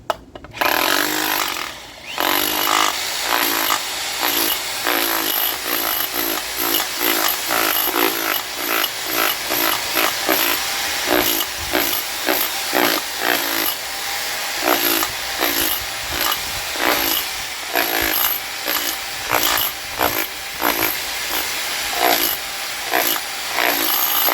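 A loud, continuous ENEACRO 1500W SDS-Plus rotary hammer drill rattles rapidly against a concrete surface, its pounding steady and harsh with no talking.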